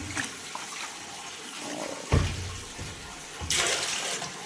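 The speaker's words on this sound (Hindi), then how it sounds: "और जैकेट के लिए इसमें डाल लेते हैं पानी।" Water from a tap pours and splashes into a tub being filled for soaking and washing a jacket, a steady close rush with louder gushing bursts partway through and near the end.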